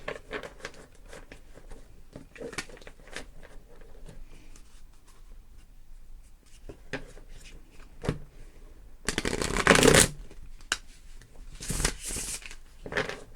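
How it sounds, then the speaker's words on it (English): Soft riffling and patter of Thoth tarot cards being shuffled, with quiet handling clicks, then two louder bursts of rapid card riffling near the end. "I'm actually gonna try shuffling these."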